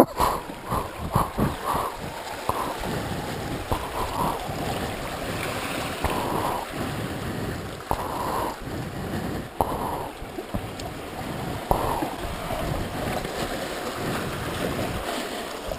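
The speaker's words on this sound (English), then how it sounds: "All in the timing with these waves." Sea waves wash and break on a Cornish shoreline in a steady, close roar, with repeated surges of foam and spray rising over a constant rushing background, and no talking.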